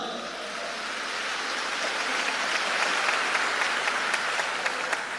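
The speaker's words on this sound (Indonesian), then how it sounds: "Beri tepuk tangan yang meriah untuk beliau." Audience applause for Anies Baswedan at a Gontor school gathering of students, a dense, sustained wash of clapping from a large crowd that swells slightly and holds steady throughout.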